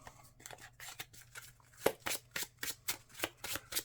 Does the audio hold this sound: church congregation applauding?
no